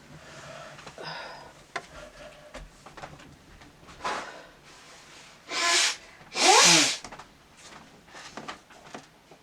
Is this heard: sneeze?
yes